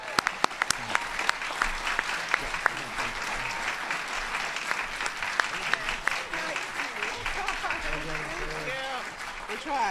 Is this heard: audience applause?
yes